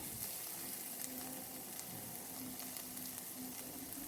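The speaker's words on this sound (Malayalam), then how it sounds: "അരിഞ്ഞു വെച്ചിരിക്കുന്ന സവാള അതിലേക്ക് ചേർത്ത് ഒന്ന് വഴറ്റാം" Sliced onions sautéing in a pan for a curry, a faint, steady hiss of frying that carries on evenly throughout with no talking.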